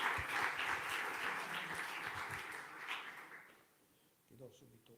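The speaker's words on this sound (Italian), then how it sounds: "chiamerei qui accanto a me Paolo Zucca, che salutiamo certamente con un bel applauso" An audience at an ISRE Sardinia cinema event in Sardinia applauds to welcome film director Paolo Zucca, a dense burst of clapping that fades out after about four seconds before a voice begins speaking.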